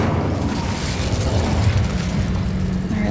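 An Incendio fire spell blasts in Hogwarts Legacy, a loud, continuous rumbling roar of flame and burst energy that holds steady and heavy throughout three seconds.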